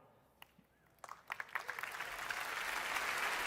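Keynote audience applause at Google I/O begins with a few scattered claps, then swells quickly into a full, sustained round of clapping from a large crowd.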